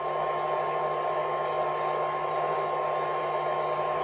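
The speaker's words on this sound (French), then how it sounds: "c'est le bruit du ventilateur de l'électronique qui est allumé tout le temps" The electronics cooling fan of a Qidi X-Plus 3 3D printer whirs steadily with a broad airy hiss and a low electrical hum, unchanging throughout, with no voices.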